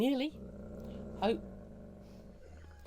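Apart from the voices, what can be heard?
dog growling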